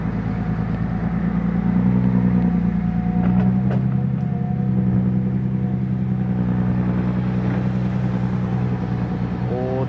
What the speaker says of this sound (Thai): เดี๋ยวเครื่องเป็นเครื่องฮีโน่ครับ